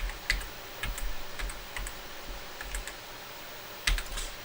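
Typing a clothing resale listing description on a computer keyboard: irregular bursts of close, crisp key clicks with a few louder taps, heard alone without talking.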